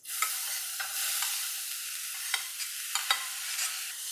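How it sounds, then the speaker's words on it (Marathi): Dry moth beans sizzle in a pan with chilli powder and onion-garlic spice mix for misal, a soft, fairly quiet steady frying hiss broken by several light clicks and scrapes of stirring. "याला परतून घ्यायचं आहे"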